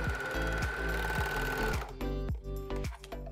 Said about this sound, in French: Donc je vais les assembler directement avec ma surjeteuse